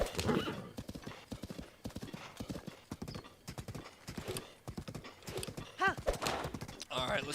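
A horse gallops in Zelda: Breath of the Wild, its hooves pounding in a fast, close, driving rhythm. A short whinny rises near the end, and brief vocal sounds appear among the hoofbeats.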